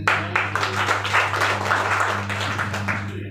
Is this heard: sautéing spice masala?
no